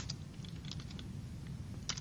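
Someone types on a computer keyboard, a run of quick, uneven clicks and taps at close range over a low room hum, with a small burst of keystrokes near the end.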